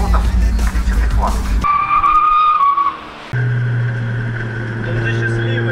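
Race car on a track braking hard, tires skidding as it spins through a 180-degree turn: loud engine roar drops into a sustained high tire squeal, then the engine drones back in steadily.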